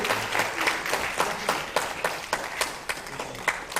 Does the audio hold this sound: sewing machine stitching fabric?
no